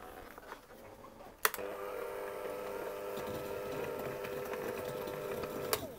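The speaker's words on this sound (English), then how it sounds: "you can do the whole thing by hand, but I'm using my hand mixer" An electric hand mixer whirs at a steady pitch while creaming ingredients for paradise slice bars, starting with a sharp click and running at moderate volume, with faint clinks against the bowl.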